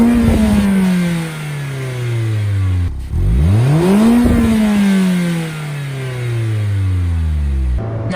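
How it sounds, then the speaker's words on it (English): A 2020 Mazda MX-5 Miata RF engine revs hard and loud in a rising sweep, drops with a gear change, then climbs again before easing off near the end. It is heard close up with no talking. "The sound of this car doesn't have a lot of character."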